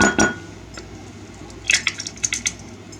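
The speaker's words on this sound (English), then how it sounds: "get them cracked in the bowl" Eggs cracked into a bowl while making a pumpkin earthquake cake: a couple of sharp taps at first, then a quick run of light clicks and clinks against the bowl, close with no talk.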